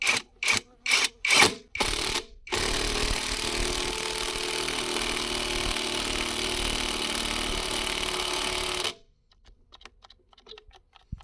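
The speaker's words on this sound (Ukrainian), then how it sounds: "Шурупокрут працює, не шурупокрут, а гайковерт. І максимальна третя швидкість." A Revolt cordless impact wrench runs at its third, maximum speed: several short sharp bursts come first, then a long continuous buzzing run that stops abruptly, leaving near silence.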